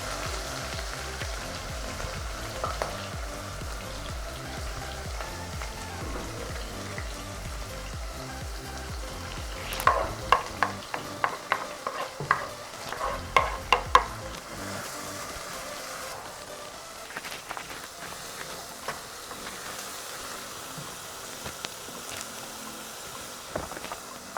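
Onions hiss and crackle as they fry with cumin seeds in a pan for an easy home curry, a faint, steady sizzle with a burst of sharper pops and spatters midway.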